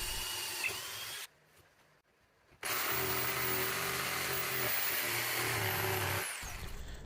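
A router whines loudly while cutting a quarter-inch round-over edge around a wooden board, goes quiet for a moment, then starts up again and runs steadily at high speed before it stops.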